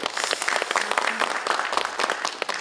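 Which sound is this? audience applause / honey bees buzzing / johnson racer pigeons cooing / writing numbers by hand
audience applause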